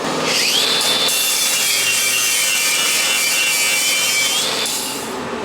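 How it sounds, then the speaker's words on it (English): A power drill grinds steadily through metal on a Chevy Avalanche custom front suspension with a high whining tone, loud and close, running continuously for about four seconds before easing off. "We gotta drill this hole for where the shot goes through"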